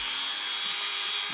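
A rotary tool fitted with a 120 grit sanding drum grinds against foam, giving a steady high-pitched whine with a gritty rasp, close and continuous, with no talking.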